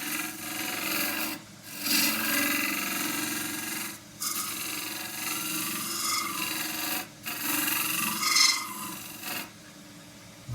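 A 1-inch round nose gouge cuts endgrain on a wooden bowl spinning on a lathe, giving a loud, steady rasping scrape broken by short pauses as the tool lifts off, with no talking.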